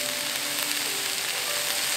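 Onions and garlic sizzle in a hot pan for a Korean stir-fried fish cake side dish, a steady close crackling hiss with faint tonal hum beneath and no talking.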